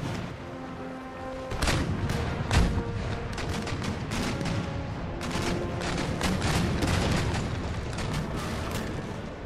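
Naval cannons boom in Empire Total War sea combat, dense overlapping broadside blasts rolling almost continuously after a quieter start, loud and thunderous with sharp individual shots cutting through.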